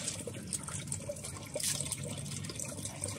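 Water flows into a fish-farming pond with a faint, steady trickle and splash, and a few soft drips stand out in the quiet.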